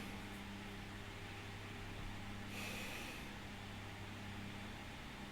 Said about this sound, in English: Let's give it another sniff